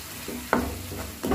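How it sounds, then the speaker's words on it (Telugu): Fresh yogurt fries in hot oil with a soft, steady sizzle, broken by two brief scraping stirs of a spoon, close and alone. "ఈ పెరుగు అంతా కూడా ఆయిల్లో మంచిగా ఫ్రై అవ్వాలి."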